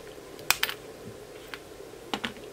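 Sharp snips of side cutters trimming a component lead on a LoRa-to-WiFi gateway circuit board, a few crisp clicks close to the microphone with quiet pauses between them.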